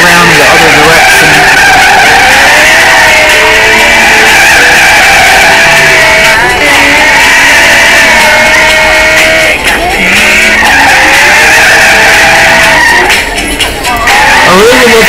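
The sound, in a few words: Ferrari 458 Italia tires skidding while drifting, video game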